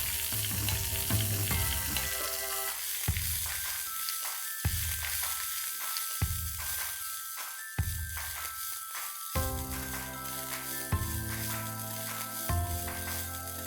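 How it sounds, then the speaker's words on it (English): Methi leaves frying in hot oil until crisp give a steady, dense sizzle that runs the whole time, with a sustained tonal layer like background music above it. "I'm going to fry this methi nice and crisp in that"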